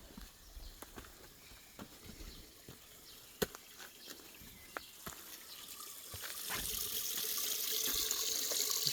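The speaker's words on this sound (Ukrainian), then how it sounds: "Під печери витікає свята водичка, бачите?" Holy spring water flowing out from under a cave near a monastery, a faint steady trickle with scattered small clicks and knocks, growing louder and hissier toward the end, no talk.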